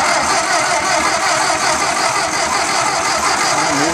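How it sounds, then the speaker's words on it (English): A Ford 841 Powermaster tractor engine starts and runs steadily at close range, a continuous loud mechanical rumble with no talking over it. "as soon as I hit the starter button"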